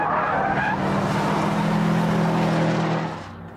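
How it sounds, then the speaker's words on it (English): A Mitsubishi Evo sliding on a test track at around 100 mph, its engine roaring steadily with a continuous tyre scrub and squeal throughout, loud and close, easing off just at the end. "100 miles an hour! And a little bit of a slide."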